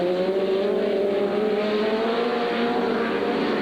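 Racing cars on a circuit, including a V8 Rover-powered Datsun, roar past with a loud, sustained engine drone whose pitch shifts slightly as they pass, heard alone without commentary.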